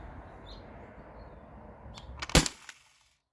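A single sharp shot from a modified T4E HDB68 pistol fired over a chronograph, a loud crack near the end following a low background hum, then quick decay into silence.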